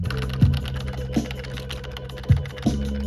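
Clicking keystrokes on a computer keyboard, used as a virtual piano, come in an irregular sparse rhythm, close and fairly clear over a faint background hum.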